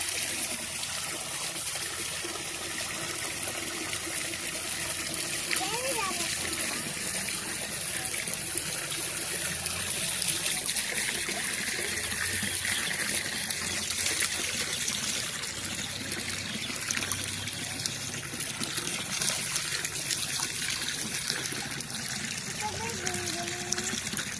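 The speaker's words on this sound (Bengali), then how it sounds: "তো প্রথমে একটু পানি দিয়ে নিলাম" Water trickles and splashes steadily into a holding tank being readied for climbing perch (koi fish) eggs, with a person talking over the flow throughout.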